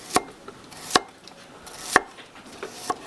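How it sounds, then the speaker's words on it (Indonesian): A knife roughly chops garlic and shallots on a board in five sharp, spaced strikes, close and clear with no talking. "Kita iris kasar bawang putihnya."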